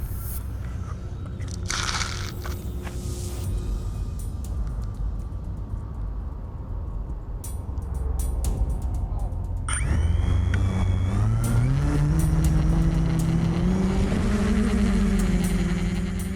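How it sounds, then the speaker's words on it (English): A radio-controlled model helicopter's engine starts up outdoors, a rough mechanical rumble and clatter that gives way after a sharp onset to a loud whining engine tone rising steadily in pitch as it spins up, with no talking. "set their engine going"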